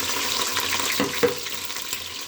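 Chopped onions and green chillies sizzle steadily in hot oil in a pan, a continuous close frying hiss with a couple of sharper crackles partway through, no talk.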